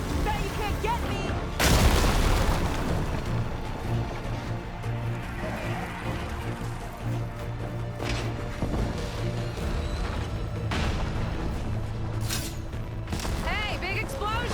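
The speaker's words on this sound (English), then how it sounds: "Hey, big explosion!" Explosion in the video game Horizon Forbidden West (Burning Shores DLC) on PS5: a loud broadband boom bursts out early, then rumbling, crackling battle noise and further impacts carry on under a low game soundtrack.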